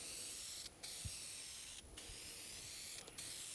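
Heavy coats of finish sprayed onto a guitar body, a steady close aerosol hiss that runs continuously, broken by a few brief pauses between passes.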